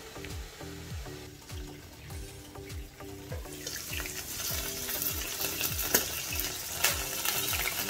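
Beef pieces frying in a covered pan for sautéed kale with beef, giving a steady crackling sizzle with rhythmic low thumps underneath and a brighter, louder spatter building in the second half.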